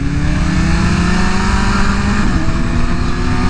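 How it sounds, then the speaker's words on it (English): A 2023 BMW S1000RR M sport motorcycle with a GP shift pattern runs loud and close as it is shifted into first gear, its engine a steady, dense drone with a slight rising rev and no talk. "I almost forgot how to shift to first gear because of the GP shift."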